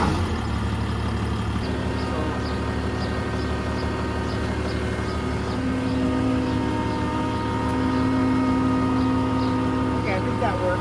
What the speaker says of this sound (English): I'm gonna start the tractor and try to figure out the agitator thing